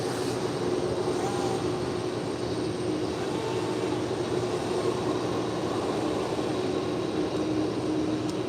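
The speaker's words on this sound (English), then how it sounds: "this was Alice Air, flight 532, coming in from Anchorage on the 747" An Alaska Air Boeing 747 arriving from Anchorage at LAX produces a continuous, moderately loud jet drone with a faint steady tonal whine, unbroken and without talk.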